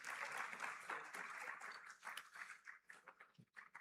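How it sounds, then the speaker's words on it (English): Conference audience at an Africa summit clapping together, a dense wash of applause that thins into scattered individual claps toward the end, fairly faint and distant. "Please, a round of applause for them once again."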